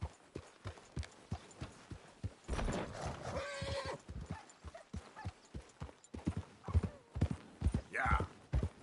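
A horse in Red Dead Redemption 2 gallops with rhythmic clip-clopping hooves and gives a loud, clear neigh partway through, with brief voices nearby.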